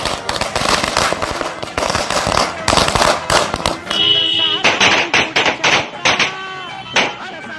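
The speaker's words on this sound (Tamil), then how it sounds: "மதுக்குரியர்கள் பட்டாசு வெடித்து கொண்டாட்டத்தில்" Firecrackers burst in a rapid string of sharp cracks and pops as liquor buyers celebrate outside newly reopened liquor shops in Kolar, Karnataka, the bangs loud and dense at first, then more scattered.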